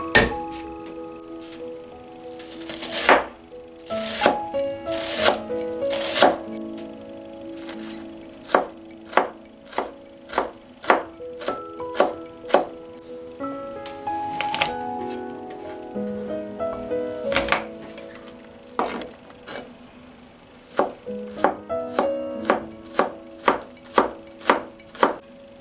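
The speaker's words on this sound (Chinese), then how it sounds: "斜着这样切一刀，这样摆出来盘会比较好看。 用刀拍扁" Knife chopping green chillies on a cutting board, then pressing them flat with the blade: sharp, close wooden thunks in irregular runs and clusters throughout, with short pauses between bursts and no talk.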